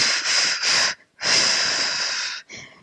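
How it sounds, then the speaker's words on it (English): Forceful breaths exhaled during a core training breathing exercise on a mat: three quick breathy puffs, a longer sustained exhale, then a short final one, close and loud with no talking. "Inhale through the nose. Exhale and go."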